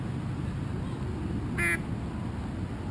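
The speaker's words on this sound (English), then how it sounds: "This duck is calling its friend Joe to come over for a cup of tea." A duck gives a single brief, nasal quack partway through, standing out over a constant outdoor background hiss.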